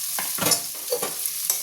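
Fish, potato and toruli stir-fried in a pan with masala: a steady sizzle under repeated scraping strokes of a spatula, several distinct stirs close up with no talking.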